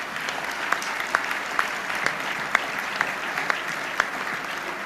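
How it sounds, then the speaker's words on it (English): A large formal audience claps for the head table at the Radio and Television Correspondents' Dinner, a steady wash of applause with a few sharper individual claps standing out across the whole stretch. "Let's have one more round of applause for everybody on the head table."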